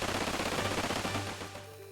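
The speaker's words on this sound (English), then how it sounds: "Gunfire." A rapid burst of gunfire in the video game Xenogears rattles for about a second, then fades into a lingering low rumble.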